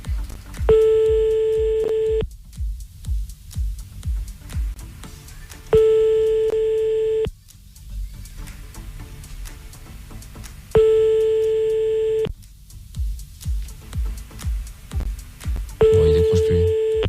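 A French phone call rings out unanswered: repeated electronic ringback tones in long evenly spaced bursts, with a voice talking in the gaps between rings.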